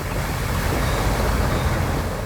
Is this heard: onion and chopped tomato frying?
no